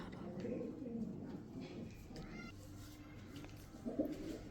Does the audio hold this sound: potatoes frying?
no